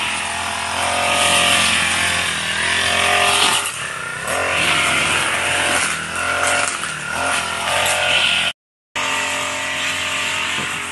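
Grass cutter engine running hard and loud, revving and bogging in uneven surges as it cuts, with a brief dropout near the end, no talking over it.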